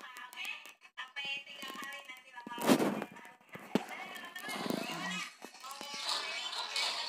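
Gunfire in an offline Android shooting game, sharp repeated shots scattered through with one louder burst near the middle, mixed with game effects and someone talking over it.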